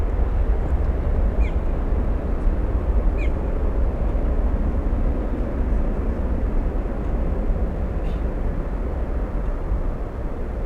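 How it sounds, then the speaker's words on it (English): Boeing 767 cargo plane touching down hard on a runway at Miami International, a steady loud broadband roar of engines and rolling wheels with low rumble throughout, no talk. "That 767 just planted on the runway."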